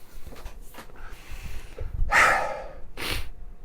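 A forceful sneeze bursts out close by, surrounded by snorting, sniffing breaths and a final sharp exhale, followed by sniffles.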